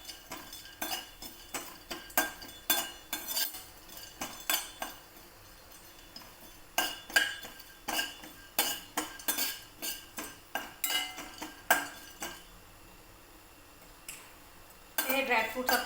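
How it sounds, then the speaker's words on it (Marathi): Dry fruits are dry-roasted in a metal pan while making jaggery sheera, giving a series of quick metallic clinks and scrapes of a spoon against the pan at an uneven rhythm, close and moderately loud. "हे ड्रायफ्रूट रोस्ट करून घेणार आहोत. हे मी कोरडेच करणार आहे रोस्ट या ठिकाणी."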